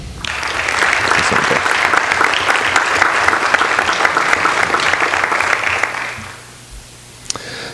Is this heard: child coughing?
no